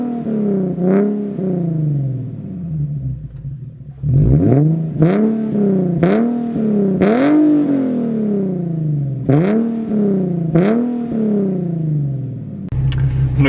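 A Nissan 370Z Nismo with a muffler-deleted exhaust idles loudly, then is blipped through a series of sharp revs that rise and fall in pitch, close and raspy, with no voices.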